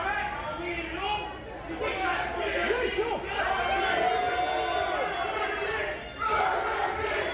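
Fans at a JCW intergender tag-team wrestling show chant in unison as a rowdy crowd, their loud, rhythmic voices rising and dipping together over a constant background roar.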